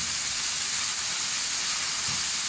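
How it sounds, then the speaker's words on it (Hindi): Cabbage and mixed vegetables frying in a pan over medium flame, a continuous bright sizzling hiss that stays even throughout with no talk. "वेजिटेबल को हमें 2 से 3 मिनट के लिए फ्राई करना है"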